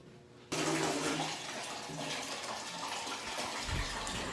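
Running tap water splashing as someone washes their face at a sink, a steady close gush of water after a brief quiet start, with a few louder splashes near the end.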